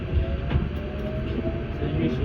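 Auckland Transport AM class electric train riding between Waitematā and Ōtāhuhu, with a steady low rumble of wheels and motors throughout and a faint tonal hum, a voice murmuring over it.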